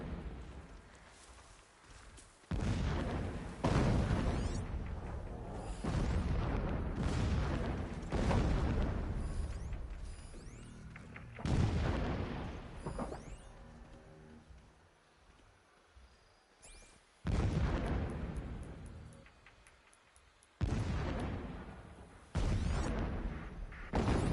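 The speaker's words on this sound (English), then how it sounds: "Explosions in the distance." Distant explosions in the Horizon Zero Dawn video game come as repeated deep booms several seconds apart, each swelling and then fading into a low rumble, with no talk.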